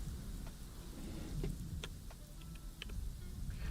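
Steady rain pours in the Prehistoric Kingdom video game, a continuous dense hiss with faint scattered droplet ticks, heard alone without voices.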